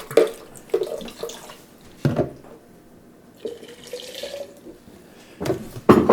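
Water runs and splashes into a two-quart jar of blended herbs in irregular bursts, with quieter trickling and gurgling between louder pours, close and moderately loud.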